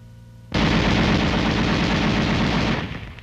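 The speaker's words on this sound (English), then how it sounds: "The M73 can be fired electrically from the gunner's position" M73 tank machine gun firing one sustained, loud automatic burst of about two seconds, rapid and dense, starting abruptly and then tapering off.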